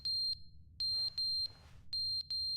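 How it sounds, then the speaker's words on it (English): A smoke detector with a dying battery gives loud, high, sharp electronic beeps in an irregular run of about five short bursts, with a low room hum underneath. "the smoke detector battery went out"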